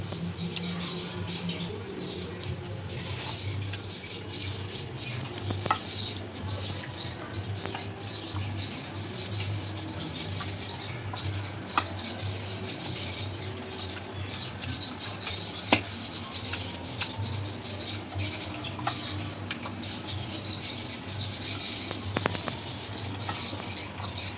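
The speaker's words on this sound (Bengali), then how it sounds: "সমস্ত পেস্টটা মাছের গায়ে ভালো করে মাখিয়ে নিতে হবে।" Spice paste is worked by hand onto pieces of catfish with soft, wet rubbing and squelching. Small scrapes and pats keep up through a long, close stretch, over a low steady hum.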